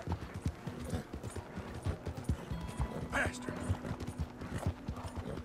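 A horse's hooves clip-clop at a steady walking rhythm in the Western video game Red Dead Redemption, close and fairly quiet, with soft mechanical creaks and a voice muttering over it.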